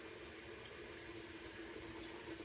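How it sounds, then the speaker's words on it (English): Tap water runs steadily into a filling sink for a wig-care soak, a continuous even rush with no voices over it. "All you're gonna do is fill your sink up."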